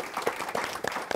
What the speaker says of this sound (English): Why don't you give them a round of applause just for being great.